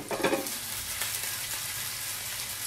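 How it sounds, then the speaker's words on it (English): Meatballs fry in a pan over medium-low heat, giving a steady close sizzle with a few brief scrapes and clatters as the pan is moved. "So just move the pan around when you are frying it, frying the meatballs."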